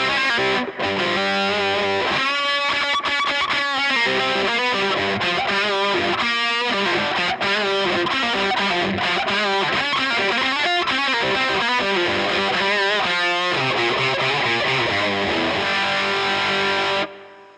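An electric guitar plays through a budget valve amp in its 1-watt mode, giving compressed, bright, heavily driven tone with audible hiss, in continuous strummed and picked phrases for about seventeen seconds before stopping abruptly.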